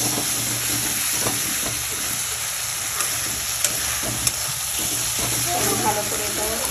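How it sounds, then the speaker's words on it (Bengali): A ginger, garlic and cumin paste sizzles in a pan for a village-style desi chicken curry, a constant close frying hiss with light stirring clicks and a voice talking over it. "আদা রসুন জিরে বাটা দিয়ে দিলাম। তো ভালো করে এটাও কষিয়ে নিব।"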